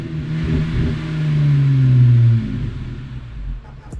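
A Jeep's V8 engine revs up nearby, its deep rumble rising into a strong sustained roar before easing back down to a quieter idle.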